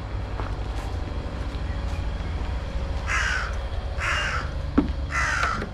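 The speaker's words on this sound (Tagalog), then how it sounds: "uwak." Crow cawing near a mini golf practice area, three loud harsh caws about a second apart over a constant outdoor background hum, with a brief knock between the last two.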